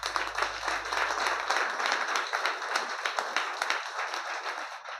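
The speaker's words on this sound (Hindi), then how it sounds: "मैं चाहता हूं कि राजेश जी के लिए एक ताली बजाइए।" An audience claps for a presenter at a talk, a crowd of hands applauding in a dense, fairly even wash that carries on through the whole moment.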